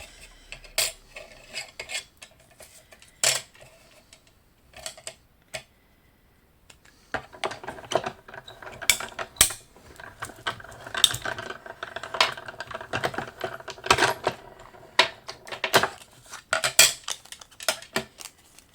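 A paper card is run through a die cutting machine, giving scattered clicks, clacks and rattling mechanical knocks that come in irregular bursts, louder and busier in the second half, with no talk.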